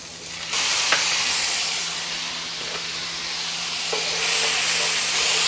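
Garlic and shallots sizzle loudly in a frying pan, a dense and steady hiss heard up close with a few faint clicks and pops scattered through it.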